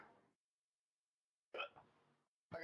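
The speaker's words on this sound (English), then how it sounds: "got the hiccups now" Two sharp hiccup bursts from a man in a garage gym between sets of back exercises, the first clipped off at the start and a stronger one later, each brief and close, separated by silence.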